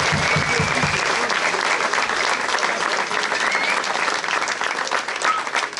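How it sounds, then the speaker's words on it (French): Loud, sustained applause from a crowd at a summer village festival, dense clapping that fills the whole stretch without letting up, with a voice briefly heard at the very start. "j'aimerais qu'on les applaudisse quand même très fort"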